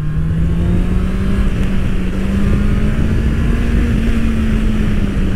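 A Honda CBR650R motorcycle rated at 95 horsepower at 12,000 rpm drones loudly on a test ride, its engine note rising slowly and steadily under constant wind rush.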